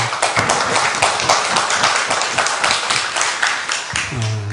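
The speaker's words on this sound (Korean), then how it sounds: "우리 합의 영광의 박수 한번 올리겠습니다" A church congregation claps together in a lively burst of applause with distinct individual claps, ending as a voice begins to speak.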